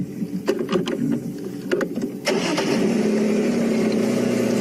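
A safari game-drive vehicle engine starts up with a few cranking bursts, then catches and settles into a steady, loud idle, close by and without talk.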